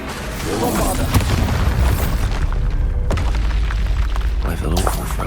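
A Bombarda explosion spell in Hogwarts Legacy detonates with deep booming thumps inside loud, continuous battle noise, with a sharp blast cutting through around midway and a spoken incantation over the mix.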